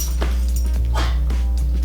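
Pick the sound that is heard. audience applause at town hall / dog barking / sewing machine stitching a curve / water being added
dog barking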